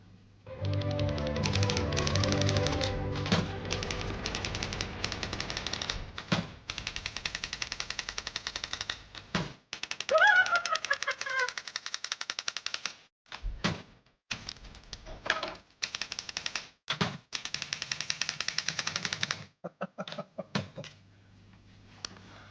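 Fast orchestral music with rapid typewriter key clacks and carriage bell tapping in quick, rhythmic bursts, loud at first and then in choppy, stop-start runs of clicks.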